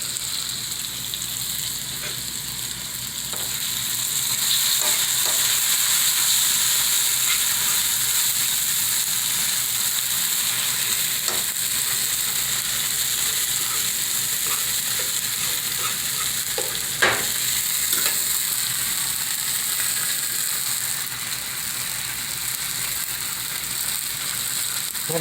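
Tomato sauce simmers and sizzles in a pan after seasoned, caramelized ingredients are added for a salt-free pumpkin soup, a steady broadband frying hiss close by with occasional stirring clicks and scrapes, no talking.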